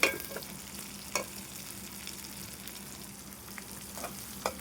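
Shrimp frying in a pan with spinach, turmeric, chili and salt, a steady soft sizzle with a few sharp stirring clicks, close and moderate in level, no voices.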